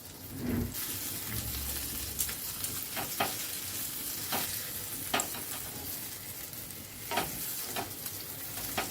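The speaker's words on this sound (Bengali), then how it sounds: "এবার আমি একটা হাতা আর একটা খুন্তির সাহায্যে উলট পালট করে দিচ্ছি এতে ওপর পোষণটা ভাজা হয়ে যায়" Potato and pea snacks sizzle steadily in hot oil while a ladle and spatula turn them over, with a few sharp scraping knocks of the utensils against the pan scattered through the frying.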